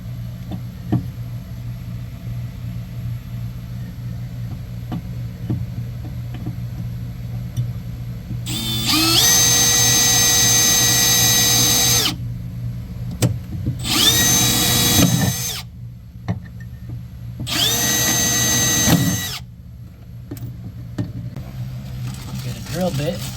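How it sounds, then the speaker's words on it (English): A power drill bores a small pilot hole into a Kawasaki JS 300 jet ski in three loud whirring bursts, each rising to speed and winding down, over a low steady background hum with faint talk between. "So I'm just going to drill a small pilot hole first, right in the center."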